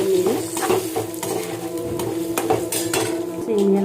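Tempering spices, chana dal in hot oil, sizzle in a pan for semiya pulihora, with steady frying hiss, repeated metallic clinks and scrapes of a spoon stirring against the pot, close and moderately loud.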